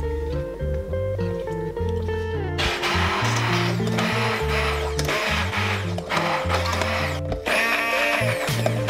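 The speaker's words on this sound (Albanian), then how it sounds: "Supa është gati, tash e kalojmë në blender." Blender pureeing pumpkin soup, a loud motor whir that shifts pitch and load in surges, with pulsing low rhythmic tones underneath and no speech.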